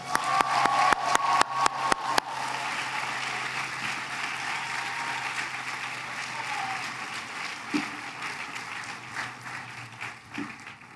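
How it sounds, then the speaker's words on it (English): Audience applause at a Vanderbilt School of Nursing graduation hooding ceremony, steady dense clapping from a large crowd filling the hall, opening with a few sharp nearby claps and slowly fading toward the end. "Another round of applause."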